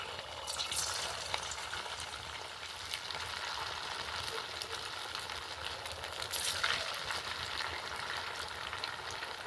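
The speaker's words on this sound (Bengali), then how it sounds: "এবার একে একে এগুলো তেলের মধ্যে ছেড়ে দেবো।" Gujiya dumplings frying in hot oil, a dense, steady crackling sizzle that holds throughout with small bubbling pops, close and moderately loud, with no talk.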